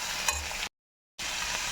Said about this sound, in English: Once it turns pale, you can add capsicum, fry it well.